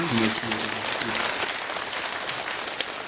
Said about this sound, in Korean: 그렇게 큰 박수 한번 보내주시기 바랍니다.